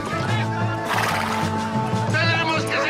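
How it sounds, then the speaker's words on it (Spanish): A horse whinnies loudly in a long, wavering neigh, followed by further snorting calls and faint hoof clip-clop, close and prominent over a background of dramatic film sound. "pero Bolívar huye en un caballo"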